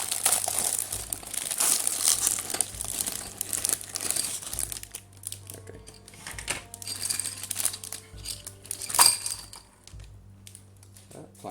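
A knife slits and tears open the plastic wrap on a Warhammer Conquest issue 56 magazine, with close, irregular crinkling and crackling that ends in a sharper rustle and then quieter handling.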